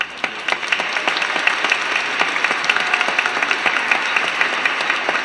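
A church congregation at a Chrism Mass applauds in a dense, steady wash of many hands clapping at once. It sounds fairly loud and continuous for the whole stretch, with no talking.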